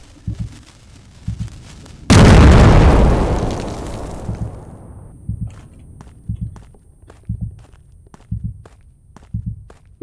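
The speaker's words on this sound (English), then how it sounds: "That's a cannon." A single heavy cannon blast in a video game booms out and rumbles away over a few seconds, surrounded by quieter, regular thumping footsteps before and after.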